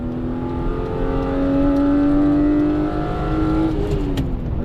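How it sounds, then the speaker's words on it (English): A BMW E36 M3 engine pulls hard at wide open throttle, a loud sustained rising drone with steady harmonics that climbs through the revs and then drops off near the end, heard alone without voices. "E36 M3, first time wide open throttle."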